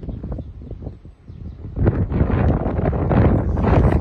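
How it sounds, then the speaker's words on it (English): Strong gusting wind buffets the microphone with a roaring rumble, briefly easing before surging louder and staying rough and continuous. "Very high winds today till 7 p.m."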